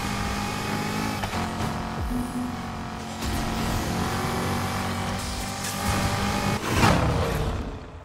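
An engine-swapped V8 all-wheel-drive Nissan GTR in the Need for Speed Heat racing game accelerates with a continuous throaty engine roar, shifting through gears and swelling louder near the end, with no voices.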